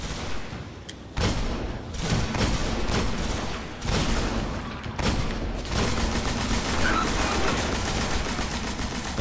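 Sustained gunfire in the shooter game Destiny as a player shoots out gates: dense, loud bursts of rapid shots that come in several waves with short pauses between them.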